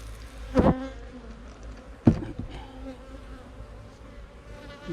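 Honeybees drone in a steady close buzz at the hive, with a couple of sharp knocks or thumps cutting through the humming.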